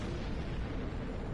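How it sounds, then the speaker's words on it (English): Ships exploding in a PS4 video game: a dense, continuous low rumble of blasts filling the whole moment, loud and steady, with no talking over it. "So you can hear the ships exploding?"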